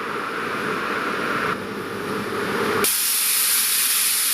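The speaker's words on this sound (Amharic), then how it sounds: "ሽንኩርቱ በዚህ መልኩ እየተቁላላ ነው።" Onions sautéing in a small amount of oil in a pan make a continuous close hiss and sizzle, with a couple of abrupt shifts in tone partway through and no talking.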